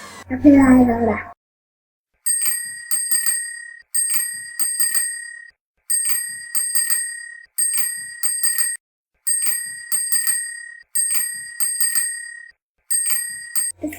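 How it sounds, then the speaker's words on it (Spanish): A bicycle bell rings in repeated bright double and triple bursts, about a dozen rings spaced evenly with short gaps, after a single spoken word at the start. "Bicicleta."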